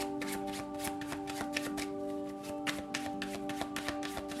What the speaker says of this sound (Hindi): तो चलिए शफल कर लेते हैं ऑप्शन 2 के लिए।